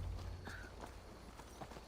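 Faint, distant horse hooves clip-clop in a steady rhythm inside the video game Assassin's Creed Valhalla, quiet beneath a low background hum.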